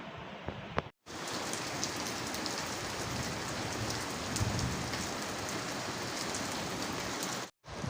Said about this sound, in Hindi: शाम के 7 बजे वापस पड़ रही है भारी भारी बारिश, तो आपको भी दिख रही होगी।